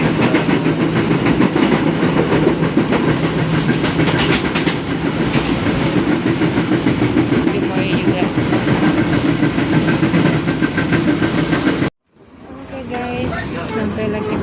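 A commuter train heading to Bogor station rumbles continuously with rail clatter and cabin noise for about twelve seconds, then cuts to a quieter scene with low background sound.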